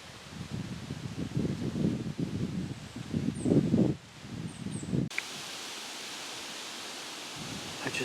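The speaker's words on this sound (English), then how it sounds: "I'm showing you at a calmer moment, but the wind is just ripping around." Strong wind roars through treetops in a steady broadband rush with gusty surges, then shifts to a more even windy hiss, close and loud with no talking.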